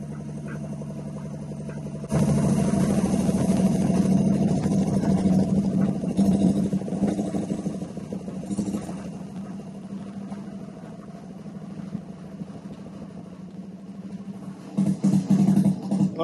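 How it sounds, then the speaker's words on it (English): A vacuum pump on a shop-built vacuum kiln starts up after a quiet moment and runs with a steady, low mechanical hum and rumble, easing slightly quieter as it keeps running. "Pump should be getting quieter as it gets lower."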